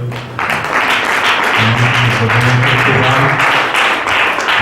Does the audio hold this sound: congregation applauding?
yes